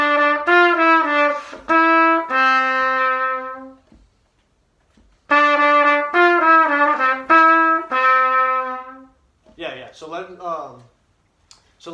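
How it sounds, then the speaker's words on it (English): A brass instrument plays the first two measures of a beginner lesson piece slightly under tempo, as a short phrase of held notes. The phrase is played twice with a pause between, and a voice speaks briefly afterward. "I'm just going to play those 2 measures for you."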